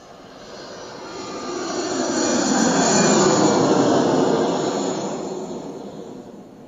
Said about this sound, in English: I hopped on a plane to Peru.